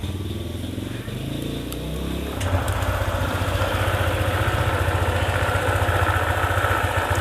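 Honda ADV 150 scooter from 2020 starts up at about two and a half seconds, then settles into a steady, close idle with a continuous mechanical hum after a brief quieter lead-in.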